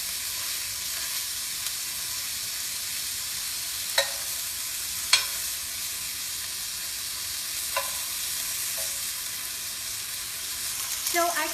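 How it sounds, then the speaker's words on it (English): Burger patties frying in a pan, with a steady broadband sizzle throughout and a few brief clicks and scrapes as the patties are flipped, busier near the end. "Now I'm just flipping my patties."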